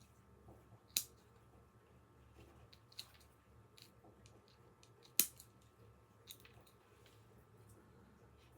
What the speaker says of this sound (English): Now we'll take our other scissors and go right through.